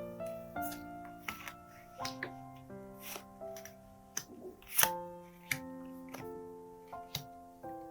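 Tarot cards are handled and laid out with soft, irregular taps and flicks, about a dozen quiet clicks spread over gentle background music.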